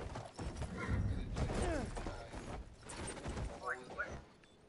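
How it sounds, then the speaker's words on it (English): Hooves clop and a horse neighs in a video game, short bursts amid busy mechanical game noise, with players talking over it. "This is my horse Sea Bagel."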